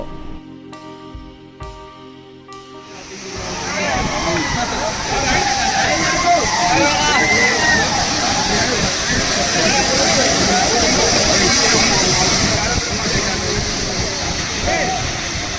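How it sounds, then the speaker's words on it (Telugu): After a brief bit of music, loud rushing water roars steadily and close by, a broad continuous wash on a hill trek near Mahendragiri, with faint voices underneath. "ఇక్కడ వాటర్ సౌండ్ ఎంత గట్టిగా వస్తుందంటే ఒకసారి మీరే వినండి"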